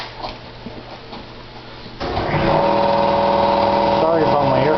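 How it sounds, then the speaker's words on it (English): An air compressor kicks on suddenly partway through, its motor rising into a loud, steady mechanical drone close by that continues to the end, over quieter workshop background beforehand. "my air compressor just went on"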